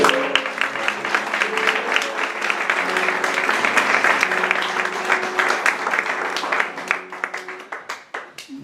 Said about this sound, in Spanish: estáis aplaudiendo y todo